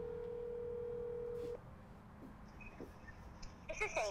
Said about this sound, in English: We're gonna call Miss Sandy at Outlaw. Get on speakerphone here